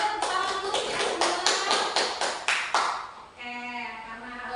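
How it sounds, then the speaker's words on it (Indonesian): Classroom of students clapping hands together, a dense burst of close, overlapping claps lasting about three seconds before fading into room noise. "Kita tepuk tangan dulu ya semua."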